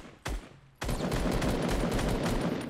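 Rapid automatic gunfire in the video game Fortnite, a short burst followed by a sustained rattling volley of dense, repeated shots, loud and close.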